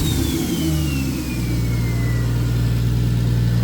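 Turbocharged 2JZ-GTE engine in a Lexus IS300 revving hard and loud, a sustained deep engine roar with a whining tone sweeping downward and a brief dip near the middle, no talk.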